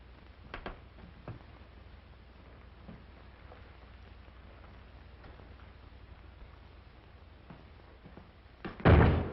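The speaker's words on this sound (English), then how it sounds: "Hey, careful of that door." A single loud door slam lands at the very end after a long stretch of soft, rain-like hiss and a few faint knocks, in a 1938 film scene.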